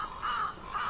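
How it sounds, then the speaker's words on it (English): Crows cawing in the pixel-art horror game The Last Door, a murder of crows feeding; two loud, harsh caws close by, alone with no talk. "A murder of crows eagerly eating something."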